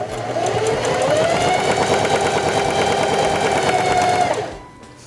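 A Singer Heavy Duty 4411 sewing machine runs steadily for about four seconds stitching a zigzag pattern through fabric, a loud continuous rapid mechanical whir and needle clatter that stops abruptly near the end.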